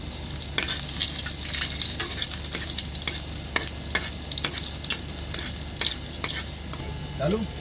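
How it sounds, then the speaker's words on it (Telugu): A tadka for dal sizzles and crackles in hot oil, the tempering stirred with sharp scraping clicks over a dense, continuous frying hiss, close and loud throughout. "తాలింపు పెడుతున్నాను పప్పు"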